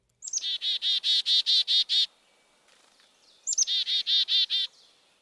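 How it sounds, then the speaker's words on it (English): A chickadee gives its chickadee-dee-dee call in two bursts, each a quick high opening note followed by a run of buzzy, evenly spaced dee notes. The calls are clear, close and alone, with a short quiet gap between them. "Thus, the name chickadee can represent this call,"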